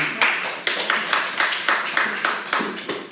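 A church congregation claps in a steady rhythm, about four claps per second, sharp and even throughout.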